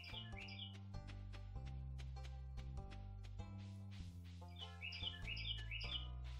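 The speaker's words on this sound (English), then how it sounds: "I have a very loud bird outside my house." Loud bird chirps and squawky calls from outside a house, repeated bursts over steady game background music.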